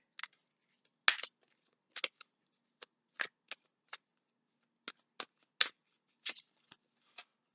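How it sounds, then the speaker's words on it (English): Tarot cards being shuffled and drawn, a series of crisp separate riffling snaps and slaps in irregular bursts, close and clear against a quiet background with no talking. "I'm gonna pull out more cards here."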